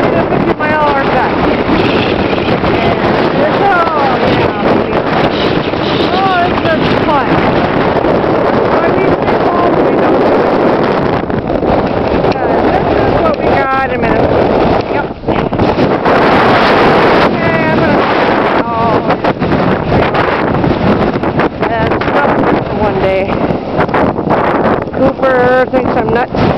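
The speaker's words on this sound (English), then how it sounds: "in the wind, in the snowstorm." Strong wind of about 40 to 50 miles per hour in a snowstorm, roaring and buffeting loudly and continuously against the microphone with no letup.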